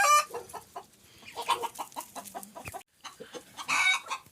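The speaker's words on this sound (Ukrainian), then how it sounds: "Курочки починають активно нестися." Farmyard hens cluck in quick, choppy bursts, close and fairly loud, with a brief pause partway through before the clucking resumes.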